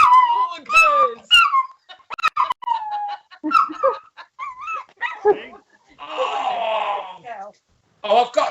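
A dog whimpers and whines in short, high, wavering cries that come in bursts, mixed with yelps and breaths and interrupted by gaps of silence, with no talk.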